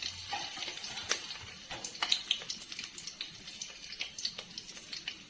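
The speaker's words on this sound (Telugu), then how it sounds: "పచ్చిమిరపకాయల ముక్కలు వేస్తున్నాను" Green chilli pieces frying in hot oil with cashews, cinnamon, cloves, cardamom and biryani masala for chicken biryani, giving a faint, steady crackle with scattered small pops and light clinks, no voices.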